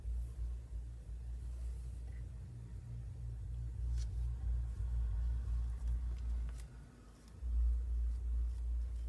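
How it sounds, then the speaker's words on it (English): Deep bass music thumps from a car parked outside, a steady low booming rumble heard from a distance indoors, swelling briefly louder near the end, with no talking. "there is a young man or a young lady outside with the car and the music on, and boom, boom, boom, boom, boom"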